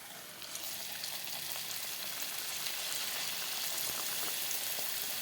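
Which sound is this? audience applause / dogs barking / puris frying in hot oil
puris frying in hot oil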